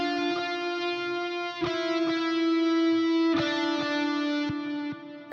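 Lead guitar through the Archetype Plini amp plugin for an epic hybrid trailer track: sustained, saturated notes with a few picked changes, smooth and effect-laden, played alone without voice.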